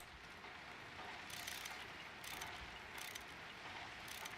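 Wrench working on a block in a Minecraft industrial automation modpack, a faint repeating ratcheting click in quick regular bursts over a quiet mechanical background.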